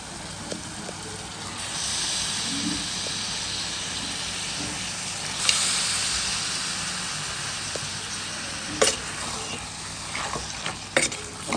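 Mutton cooking in a pressure cooker lets out a steady steam hiss and sizzle that runs almost the whole time, with a few sharper bursts near the end and no talking.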